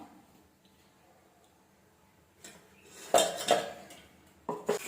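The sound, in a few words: covering the curry pot with a lid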